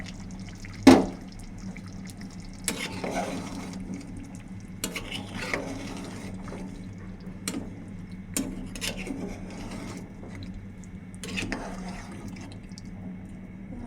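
Potato chunks go into a simmering beef curry, a sharp drop and clatter at the start, then soft intermittent stirring and quiet bubbling in the pot, with a little speech in the background.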